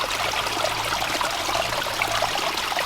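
Water flows steadily over a built garden stream spillway, a close continuous splashing trickle and gurgle with no pauses and no talk.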